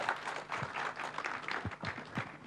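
Audience applause fills the room at a Kenya Meat Expo panel session, a dense steady wash of many hands clapping at moderate loudness throughout, with no speech over it.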